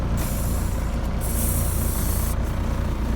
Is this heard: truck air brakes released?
yes